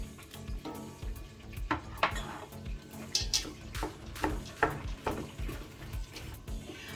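Abacha, the African salad, being mixed with stockfish and pomo in a bowl: a spoon scrapes and knocks against the bowl in irregular strokes, with wet squelching stirring, close and fairly quiet.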